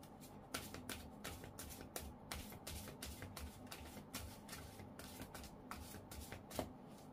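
Angel oracle cards are shuffled for a tarot reading, a steady run of crisp riffling flicks and slaps close to the microphone, with no voices.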